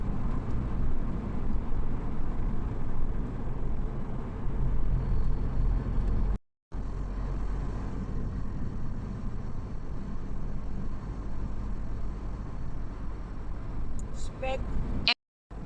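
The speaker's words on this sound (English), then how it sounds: "I've been driving for about 4 kilometers" A car drives along a road on Senja island in Norway, past small fjord-side villages, a steady broadband road and engine rumble with a brief cut midway and a short beep near the end, a voice talking over it.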